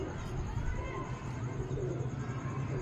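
Kasuri pigeons coo in a low, soft murmur that runs steadily under a busy background of voices and noise.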